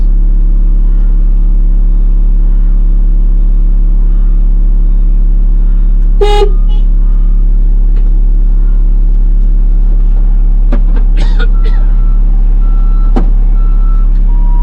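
Trucks delivering stone, about 230 tons of it, beep repeatedly while reversing over a steady low engine rumble, with short tonal bursts and clanks scattered through the middle and end.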